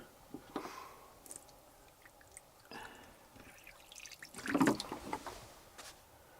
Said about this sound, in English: Let's just see what happens if some water ends up in that corner.